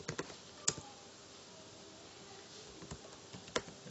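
Keystrokes on a computer keyboard in a quiet room, a few sparse, distinct clicks spread across a few seconds with no one speaking.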